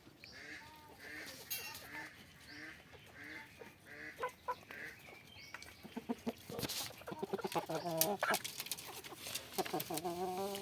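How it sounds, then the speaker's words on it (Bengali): Two roosters of the aseel breed, let loose in a backyard, cluck and crow in bursts that grow louder and busier toward the end, with brief honking calls mixed in and no speech. "দুটোই মোরগ আছে।"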